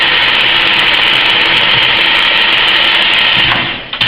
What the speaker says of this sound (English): turn the lathe on by pushing the black knob down, guard down, and then drill by turning this handle slowly